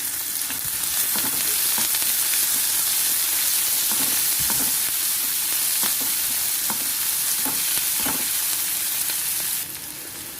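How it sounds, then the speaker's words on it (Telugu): Chopped onion, curry leaves and green chillies frying in oil in a pan, a loud, continuous close sizzle with repeated scraping stirs of a spoon across the pan, easing slightly at the very end. "కరివేపాకు, 2 పచ్చిమిరపకాయలు కట్ చేసి అది కూడా ఇందులో వేసుకొని వీటిని మనం వేయించుకోవాలి."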